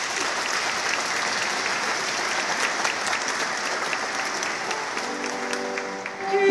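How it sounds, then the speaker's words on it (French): Steady, dense applause from a congregation fills a cathedral during Mass in Saint-Omer, sustained for several seconds before a sung or spoken voice rises at the end. "On peut peut-être l'applaudir."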